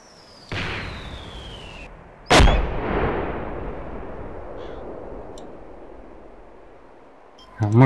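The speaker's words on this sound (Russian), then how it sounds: "Может, кто-нибудь видел, откуда стреляют с РПГ?" RPG and gunfire in the Arma 2 video game: a sharp launch whoosh, then a loud blast with a long rumbling decay, followed by scattered distant shots and another burst near the end, with radio voices faintly talking.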